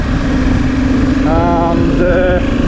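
A Yamaha T7 World Raid motorcycle drones steadily along a road, its engine humming loud and close with a slight rise in pitch partway through, wind rush mixed in.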